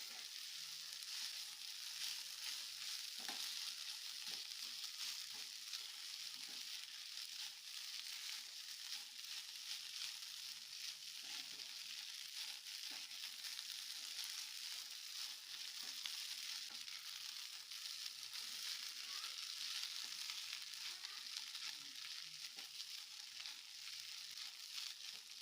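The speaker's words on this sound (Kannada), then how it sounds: "ಸ್ವಲ್ಪ ಫ್ರೈ ಮಾಡ್ಕೊಳ್ಳೋಣ." Freshly cooked rice being fried with capsicum masala in a pan, a steady close sizzle that runs unbroken for the whole stretch, with faint stirring clinks now and then and no voices.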